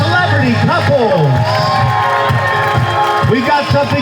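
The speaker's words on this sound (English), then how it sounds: "Big round of applause for all our celebrity couples." A crowd at a local celebrity dance competition show cheers and whoops loudly, with scattered clapping and shouts blending into a dense roar throughout.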